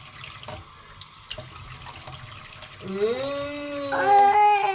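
Tap water runs into a sink as dishes are washed at home, a steady hiss with scattered clinks, swelling louder in the last seconds while a voice rises faintly over it.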